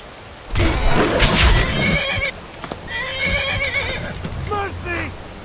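A horse whinnies loudly twice in modded Skyrim, with a shorter neigh near the end, over a steady low rumble of game ambience.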